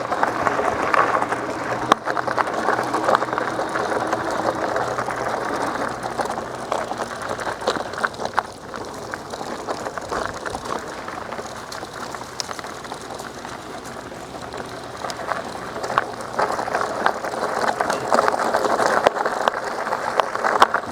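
A Kingbull Literider e-bike riding off-road in the country gives a continuous rough rumble of tires over uneven ground mixed with wind buffeting, fairly loud and close for the whole stretch.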